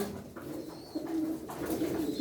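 A nuhudi mirror-tail pigeon coos close by in a few low, soft, rolling calls over faint background noise.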